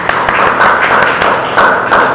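An audience claps loudly for student Siddhi at a student interview, a dense burst of close applause with sharp hand slaps that lasts the whole moment.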